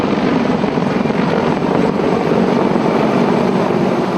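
A CH-53K King Stallion heavy military helicopter with composite rotor blades roars continuously, a dense, loud, unbroken rotor and turbine wash with no voices over it.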